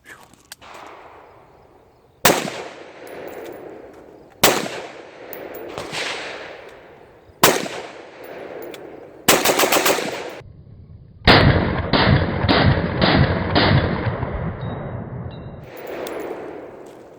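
An AR-pattern rifle built on a Barnes Precision lower and upper, fitted with a 556 Tactical Stryke-2 compensator, fires several sharp single shots spaced a few seconds apart, then a quick rapid string, loud and close with ringing echoes.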